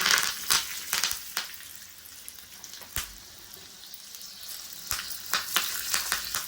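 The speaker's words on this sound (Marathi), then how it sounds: "गरम तेलामध्ये मी आता मोहरी आणि हिंग घालते" Mustard seeds and asafoetida crackle and pop sharply in hot oil, irregular bursts of spattering over a continuous hiss.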